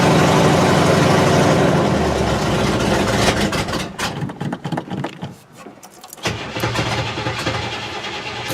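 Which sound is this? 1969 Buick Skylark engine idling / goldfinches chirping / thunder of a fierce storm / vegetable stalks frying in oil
1969 Buick Skylark engine idling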